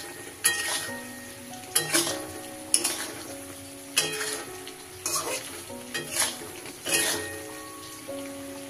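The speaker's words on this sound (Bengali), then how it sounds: "এরপর ঠিক এইভাবে ক্রমাগত নেড়ে যেতে হবে।" A thickening paneer sweet mixture is stirred steadily in a pan, with repeated scraping strokes about once a second over a low sizzle, close and moderately loud with no talking.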